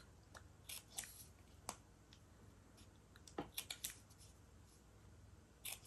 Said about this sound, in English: And then I'll cut the little corners off.